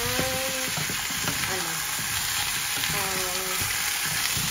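Chicken wings adobo with lemon frying and browning in a pan, a steady loud sizzle throughout with light stirring scrapes and a few faint voice-like tones underneath.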